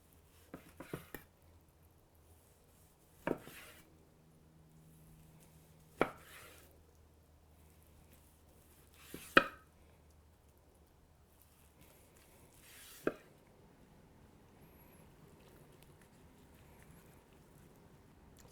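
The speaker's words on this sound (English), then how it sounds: "I'll start slicing some flat first, and then I'll go with the point here." A knife slices through the flat of a smoked beef brisket, giving sparse, faint cutting taps and thuds spaced a few seconds apart against a quiet background.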